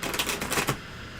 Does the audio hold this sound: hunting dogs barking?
no